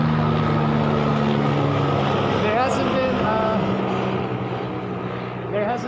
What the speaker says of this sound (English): am I like right next to like a helicopter base or something?